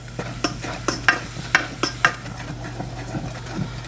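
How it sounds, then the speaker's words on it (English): Gooseberries and red currants simmer with sugar in a pot over medium-high heat, giving a soft steady bubbling with scattered sharp pops and light clinks at a close, moderate level and no talking. "let these boil on medium-high heat until the berries have kind of popped and deflated"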